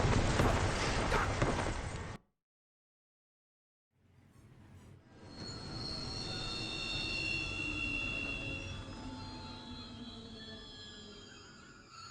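A train rolls past in Final Fantasy XV, a loud rumbling burst that cuts to silence, then returns as a long passing roar with squealing wheels and metallic screeches.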